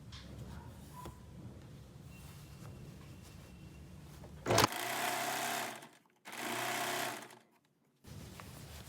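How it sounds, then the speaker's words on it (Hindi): A sewing machine stitches around a folded trouser hem in two sustained bursts of steady, close whirring, with a short pause between them and quieter room noise before. "अब हम इस तरह से फोल्ड करते हुए इसके नीचे साइड इसी तरह से पूरे राउंड में सिलाई लगा लेंगे।"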